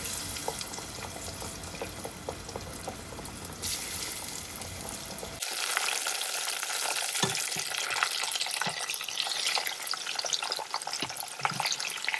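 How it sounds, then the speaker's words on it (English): Chicken nuggets fry in Farmer John's premium lard with a constant sizzle. The sound jumps louder and brighter partway through, with scattered pops and clicks and no voices. "I'm using Farmer John's premium lard to fry these up."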